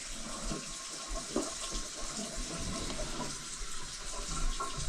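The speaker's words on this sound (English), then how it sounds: "go ask her if she can flush her upstairs toilet once for me" An upstairs toilet flushing in a house with a clogged main sewer line, heard as a steady rush of running water with no talk.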